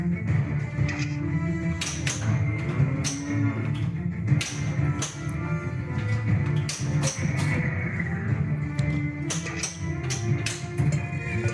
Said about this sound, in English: Here, Professor Plotnick's cows.